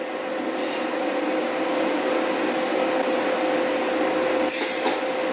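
A welder set to scratch start arcs unexpectedly while fabricating an oil pickup tube, a harsh steady buzzing hiss with a sustained tone that holds for several seconds before a sharp bright crackle near the end.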